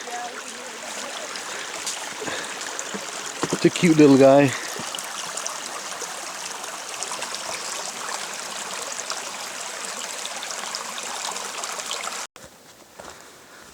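A steady babbling creek flows throughout on the Superior Hiking Trail in Minnesota, with a short spoken remark partway through and a brief rustle near the start.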